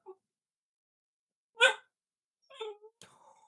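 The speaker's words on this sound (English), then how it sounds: "She's barking." A pit bull gives a few short, separate sounds, a sharp bark and brief whiny yelps, separated by silence.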